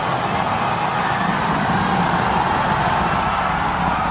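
SpaceX Super Heavy booster engines, down to three, roar during the landing and tower catch of Starship Flight 7, a steady dense rumble with no breaks.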